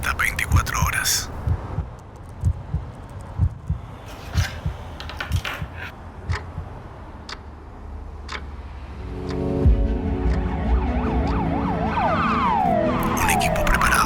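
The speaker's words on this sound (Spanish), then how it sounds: "Está llegando una ambulancia con posible ACV." An ambulance siren wails in rising and falling sweeps during the latter half, close and loud over a rumbling vehicle, after a stretch of sporadic knocks and thumps.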